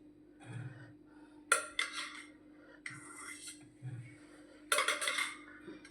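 Cooked pigeon pea totha is scooped into a dish, with several scraping metal spoon and clinking utensil sounds in separated bursts, close and clear over a steady low background hum.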